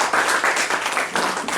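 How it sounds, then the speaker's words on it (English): Audience applause for a Toastmasters speaker, a short burst of steady clapping from a room of people, fairly loud and continuous throughout. "Please give a round of applause."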